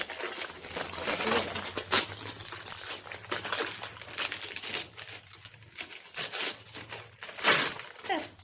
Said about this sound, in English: I just thought it'd be fun to unwrap it on camera. And I love that they wrapped it up in paper.